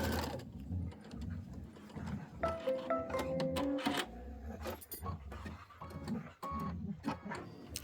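A domestic sewing machine stitches and tacks down quilt fabric for a pinwheel block, its needle running in short bursts of close mechanical whirring mixed with handling noises and pauses.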